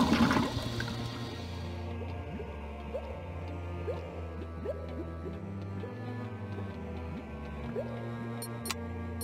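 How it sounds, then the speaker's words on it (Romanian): In the Reksio video game, water drains from a main tank after a cap is unscrewed, an initial gurgling rush fading into a low, steady trickle with soft drips and clicks. "Rexiu a deșurubat capacul și a lăsat să curgă apa din rezervorul principal."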